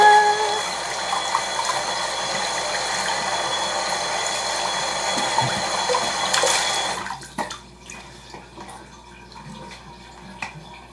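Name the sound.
washing face with running water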